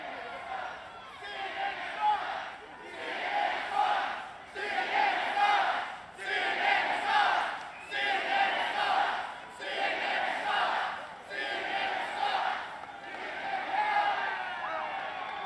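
A massive crowd at a political rally in Albuquerque, New Mexico roars and cheers in repeated loud surges, each swell lasting a second or two before briefly dipping, with no speech over it.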